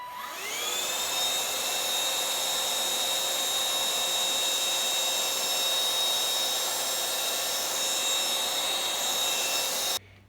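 A Silvercrest cordless cyclone vacuum cleaner from Lidl picking up hair spins up to a steady high-pitched whine with a rushing airflow, loud and unbroken for about nine seconds before cutting off at the end.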